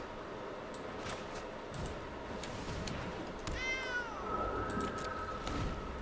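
A cat creature card in the Magic Arena video game gives one short meow partway through, set over soft ambient game background and light clicks.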